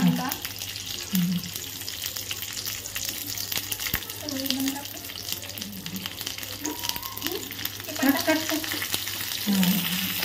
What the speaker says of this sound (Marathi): आता याला एक तडका द्यायचा आहे ना.